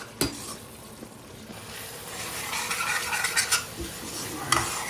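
Meat and spices being stirred and fried in a pot at a home party cooking session, with scraping of a utensil against the metal, clinks and a low sizzle running throughout.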